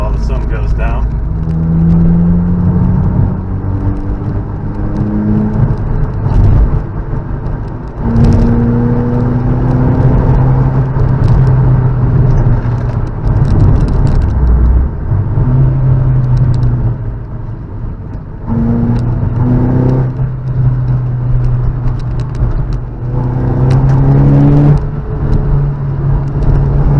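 A rebuilt Vauxhall Astra on its first drive gives a steady low engine drone and road rumble from inside the cabin, with gear changes, rising and falling revs, and someone talking throughout.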